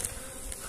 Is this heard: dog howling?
no